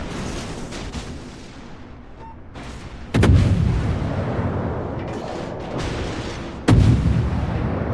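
Two loud cannon blasts from World of Warships battleship secondary guns, each with a sharp onset and a rolling rumble tail, over a low ongoing battle rumble.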